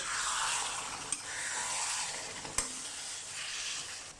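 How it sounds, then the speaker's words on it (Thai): Beef and green curry paste stir-fry in coconut cream with a quiet, steady sizzle. Two sharp scrapes of a spatula on the pan break the frying hiss. "ก็ผัดอย่างนี้สักประมาณ5 นาทีนะ พี่น้อง"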